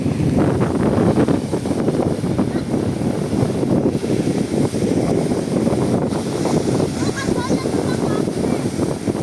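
Strong monsoon wind blows steadily at the sea, buffeting the microphone in a continuous loud rush mixed with wave wash around a small boat.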